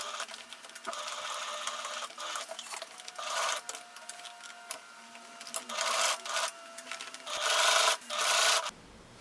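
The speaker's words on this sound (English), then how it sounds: "And you sew all around." A sewing machine stitches tape around the seam of a ruffled blouse, running in a series of short bursts with brief pauses between them, close and fairly quiet, with some fabric rustling and no talk.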